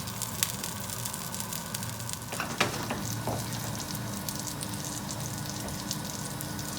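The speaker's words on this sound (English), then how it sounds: "Put it on the heat for 2 minutes to get the bottom crusty." Frozen gyoza dumplings fry in a hot pan, giving a steady, close crackling sizzle that runs the whole time with a few sharper pops along the way.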